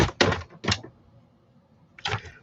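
Old Olive cardstock is cut down for a Stampin' Up card, giving three crisp, sharp cutting clacks: two in quick succession, then a pause before the third.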